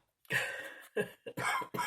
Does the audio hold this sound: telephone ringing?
no